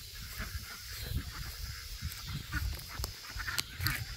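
Ducks being herded into their shelter at night, giving repeated nasal honking quacks at close range, with low rumbling handling noise and a continuous hiss beneath them.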